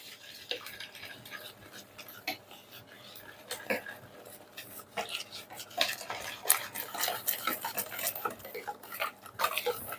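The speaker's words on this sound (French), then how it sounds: "Je rajoute un peu de lait et on va commencer à mélanger." A utensil stirs milk into flan batter in a bowl, making rapid close clinking and tapping strokes that grow louder and busier as the mixing goes on.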